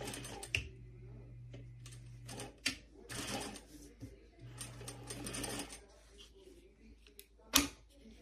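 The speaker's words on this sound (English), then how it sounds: "So I'm going to go ahead and sew" A sewing machine stitches a tote bag in two bursts of steady running with pauses between, accompanied by clicks and handling noises nearby and no speech.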